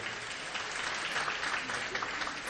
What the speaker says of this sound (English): Kindly give our presidential panelists really a warm round of applause once again.